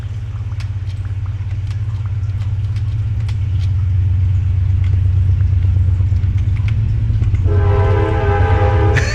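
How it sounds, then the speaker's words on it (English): A train rumbles past close by, a loud steady low roar with scattered clanks that builds over the first seconds, then a multi-tone train horn blares near the end. "And here comes the train."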